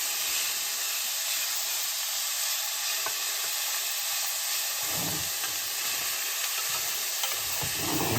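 Onions fry in a pot for a one-pot beef taco mac, giving a steady, even sizzle throughout, close and constant with a few soft stirring scrapes near the end.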